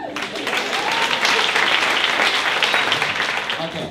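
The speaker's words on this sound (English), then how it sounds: "Let's give a round of applause to my mom." Festival of Fools talent show audience applauding, a thick burst of clapping that swells quickly and stays loud and steady from a nearby crowd.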